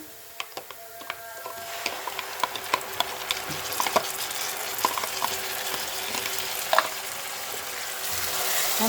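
Browned onions and masala fry and crackle in a pan as a spoon scrapes and stirs with sharp clicks, then tomatoes go in and a denser sizzle builds, close and steady with no talk.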